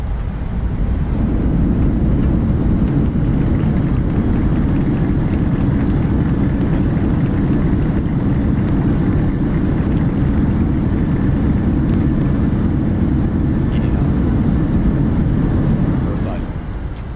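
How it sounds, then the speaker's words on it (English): Reverse thrust roar from a modded PMDG 737 landing in Microsoft Flight Simulator, a loud, steady broadband rumble that holds for about sixteen seconds and then fades slightly at the end. "Reverse thrust."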